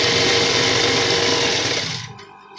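Sewing machine running a continuous straight stitch along a pajama seam, a steady loud whirring that drops off near the end.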